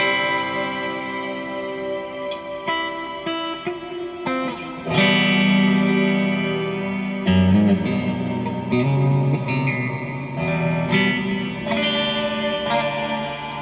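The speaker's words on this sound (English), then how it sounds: "This is the shimmer, I think, on the Black Country Customs." A Harley Benton ST20 electric guitar plays notes and chords through a shimmer reverb pedal, producing a washy, ringing wall of sustained tones with echoing trails throughout, fairly loud and with no talking.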